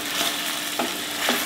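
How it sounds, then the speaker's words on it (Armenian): Food sizzles in a frying pan with finely chopped tomatoes and their juice, and a spoon scrapes through it in two or three soft stirring strokes over a steady hiss. "կխառնեմ"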